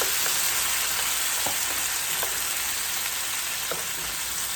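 Tomato and onion sautéing in a pan, a steady dense sizzle heard up close and alone, with a few faint utensil taps scattered through it.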